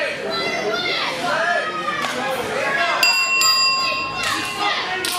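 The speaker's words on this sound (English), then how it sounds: "here we go as the bell rings at the Bartholomew County Fairgrounds for this tag team competition" A ring bell clangs to open a tag team wrestling match at the Bartholomew County Fairgrounds: a few bright, sustained metallic strikes midway, sounding over steady crowd chatter and children's voices.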